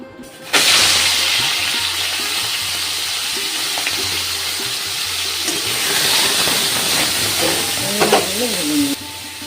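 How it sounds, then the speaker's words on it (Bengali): Prawns fry in hot oil with a loud, steady sizzling hiss that starts abruptly and continues throughout, with a few clinks near the end. "এবার আমি প্রথমে চিংড়ি মাছগুলো ভেজে নেব"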